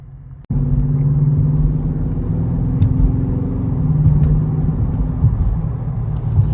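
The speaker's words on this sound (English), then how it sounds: "if y'all can hear the exhaust, stock exhaust." A Dodge Charger R/T engine idles through its stock exhaust with a steady, deep rumble, loud and close, after a sharp click at the start; no voices.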